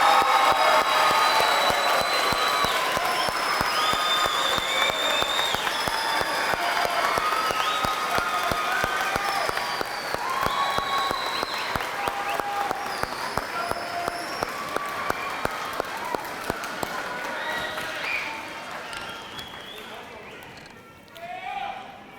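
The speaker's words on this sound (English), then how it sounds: "please give the class of 2026 one big round of applause" Sustained audience applause at a junior high school graduation ceremony for the class of 2026, dense and steady clapping from a large crowd that thins out and fades toward the end.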